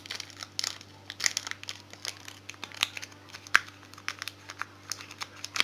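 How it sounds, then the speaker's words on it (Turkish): A Pokemon Platinum card booster pack is torn open and handled up close, with a stream of quiet crinkling foil and sharp crackles over a steady low hum, and no talking. "Şu paketi güzel açalım."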